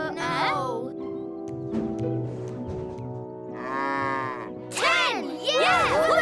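Cartoon cows moo in a series of drawn-out, pitch-sliding calls over about six seconds, loud and close, with a steady musical backing and brief cheerful voices between the moos.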